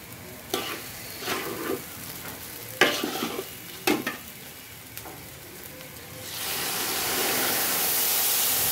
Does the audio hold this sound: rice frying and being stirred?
yes